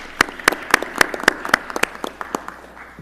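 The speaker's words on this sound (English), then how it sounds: "a round of applause to all of you" Audience at a school board meeting claps: a few distinct, spaced claps repeat at a steady pace, sparse and moderately near, with no dense crowd applause building.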